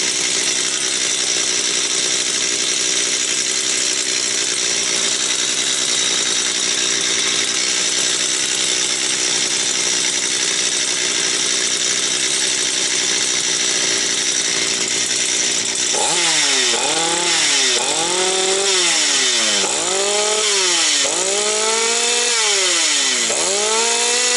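A Stihl 250 chainsaw brought in for repair idles loudly and roughly, then its engine is revved repeatedly in rising and falling bursts while warming up, close and dominant with no talk.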